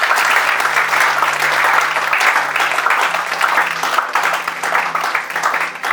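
A church congregation at a fasting and prayer session bursts into sustained, loud applause, a dense wash of clapping that carries on without a break for several seconds.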